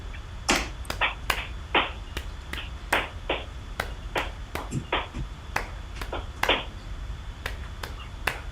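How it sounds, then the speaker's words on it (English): A group claps a capoeira rhythm in a room, crisp, sharp hand claps in repeating groups of three with a silent fourth beat, steady and fairly close, with no talking. "Let's have everybody clap, just that."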